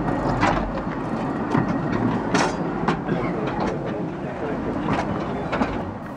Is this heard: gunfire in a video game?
no